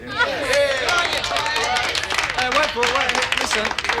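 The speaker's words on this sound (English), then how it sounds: "I think that deserves a clap" A small group of people clap in a room, the claps mixing with overlapping voices, chatter and cheering that sit prominently over the clapping throughout.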